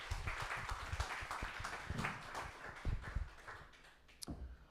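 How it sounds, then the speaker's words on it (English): A modest round of clapping from a book-launch audience, scattered claps of varying loudness that thin out toward the end, fairly quiet and without talk over it. "Round of applause, please."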